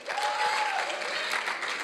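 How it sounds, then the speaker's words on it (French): An audience at a student debate applauds, a brief burst of steady clapping from a crowd filling the whole moment. "Veuillez applaudir les représentants du pour les deuxièmes années SVT"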